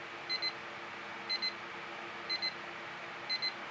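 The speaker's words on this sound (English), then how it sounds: "That's our timer, saying I've got 1 minute left to say whatever I'm going to say" A kitchen-style countdown timer alarm beeps in four evenly spaced double chirps, each pair about a second apart, clear and steady over a faint background hum.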